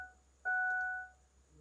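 A truck with its ignition switched on gives an electronic warning beep, one clear sustained tone lasting about half a second over a quiet background.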